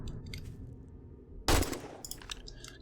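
A single gunshot cracks out in the zombie survival game 7 Days to Die, one loud sharp blast with a brief tail amid quieter game ambience and scattered faint clatter.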